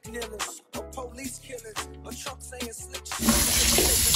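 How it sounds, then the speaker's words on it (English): Tap water runs over a wig's lace as it is rinsed at a sink: a steady, hissing gush starts near the end and is heard close and fairly loud after a stretch of rhythmic background music. "So I'm gonna go ahead and rinse this out."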